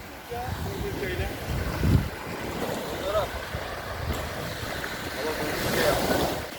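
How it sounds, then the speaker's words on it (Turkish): Sea waves wash steadily onto the shore during surf casting fishing, a continuous close rush of surf mixed with wind buffeting the microphone and a few faint background voices. "Dalga o dalga."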